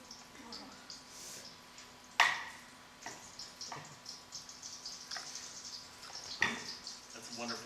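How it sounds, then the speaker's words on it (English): Food sizzling in a pan, a constant soft hiss with sharper scraping and stirring clicks at irregular intervals, close and fairly quiet. "Yeah, it's definitely sizzling now."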